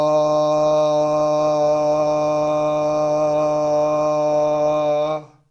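A single voice holds a long, steady chanted 'ah' hum on one rich pitch during SOMA breathwork, loud and close for about five seconds before fading out.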